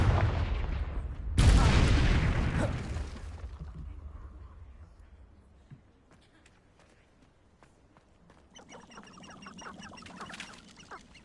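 A fire spell cast in Hogwarts Legacy gives a sudden loud whooshing burst that roars for about a second and a half, then fades into quieter ambience, with faint crackles and chiming tones near the end.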